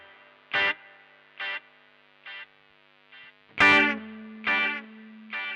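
A Keeley Eccos compact tape delay pedal repeats short guitar notes with feedback, each echo spaced about a second apart and fading, then a brighter note rings out and sustains with wobbly, degrading repeats.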